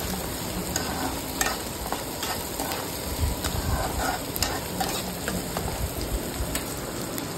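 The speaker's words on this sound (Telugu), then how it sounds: "ఈ విధంగా మనం ఫ్రై చేసుకోవాలండి." Chopped tomatoes frying in a pan for an egg curry, with a steady close hiss and crackle under repeated scraping stirs and no talking.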